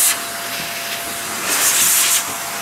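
Xpower A-2 electric air duster blowing dust out of a mining rig, a steady close whooshing hiss of air that swells louder for about a second midway before settling back.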